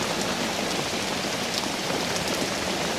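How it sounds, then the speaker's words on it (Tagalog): Heavy rain pours down in a dense, continuous hiss, loud and steady throughout with no pauses, on a foggy mountain trail at Little Mt. Pulag. "Yan, dito na kami nabutan ng ulan. Grabe, lakas no."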